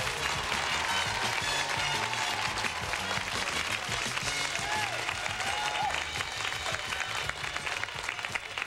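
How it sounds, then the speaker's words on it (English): Studio audience applause on a game show set, a dense sustained wash of many hands clapping at steady loudness throughout, with scattered cheers and whoops rising above it. "the applause is over now"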